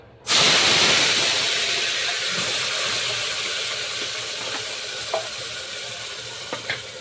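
Masala with garlic paste hits hot oil in a pan with a sudden loud sizzle that holds steady and slowly fades, a few small pops and clinks near the end.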